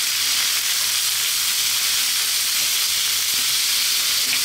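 Garlic rosemary lamb chops sizzling in a skillet, a loud, close, unbroken hiss of spitting fat that holds steady from start to finish with no talking.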